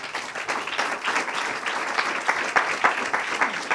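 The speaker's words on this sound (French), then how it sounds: "On peut vous applaudir." Conference audience applauding after a fundraising presentation in Paris, steady moderately loud clapping from many hands throughout.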